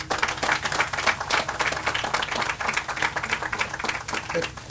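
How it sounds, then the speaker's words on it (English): An audience at a swimming pool groundbreaking ceremony claps in a round of applause, with dense, rapid hand claps that stay fairly close and even throughout. "if we can give him a big round of applause"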